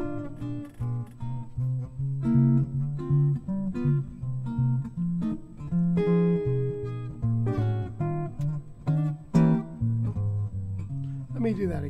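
Guitar playing a chord progression through diminished and 1-6-2-5 changes, a steady series of strummed chords at moderate loudness, close and alone without talking.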